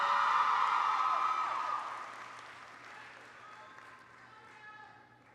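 An audience applauds at a college ceremony, the clapping starting loud and full, then thinning and fading over a few seconds, with a voice faintly underneath.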